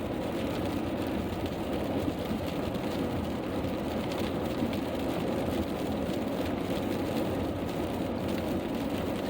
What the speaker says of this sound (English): we're getting into the rain.